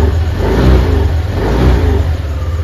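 Yamaha Aerox scooter with Zic oil in an all-stock engine, revved in short close bursts with a low rumbling idle between, loud and without any talk.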